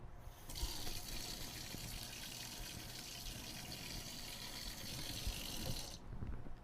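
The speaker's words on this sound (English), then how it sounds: "Instead, the proper way is, if you want to clean the probe, just simply rinse it off with water." Tap water runs steadily as a meat thermometer probe is rinsed under it, a continuous close hiss of flowing water starting abruptly and cutting off near the end.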